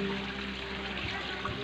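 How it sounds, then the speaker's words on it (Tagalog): Shower running with hot water at a hot spring, a steady broadband hiss of spraying water continuing evenly and close throughout, with no speech. "Dito naman, shower."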